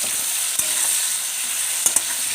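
Ginger paste frying in a pan, a steady close sizzle with a few sharp scrapes and clicks of a stirring utensil against the pan.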